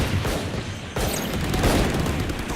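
Rapid bursts of gunfire from the Valorant shooter game, dense and loud across the whole stretch, with a sharp jump in intensity about a second in and sustained shots and impacts after that.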